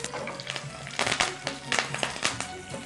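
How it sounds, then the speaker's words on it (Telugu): Cumin and green chilli pieces frying in hot oil, a close sizzle broken by bursts of sharp crackling and popping that come in quick irregular clusters, with no voices over them. "ఆయిల్ వేడిన తర్వాత జీలకర్ర, పచ్చిమిర్చి ముక్కలు వేస్తున్నాం"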